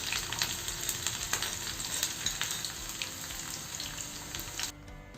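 Small onions and garlic frying in hot oil for a tempering, a steady close sizzle with bubbling crackle that runs continuously and drops off abruptly near the end.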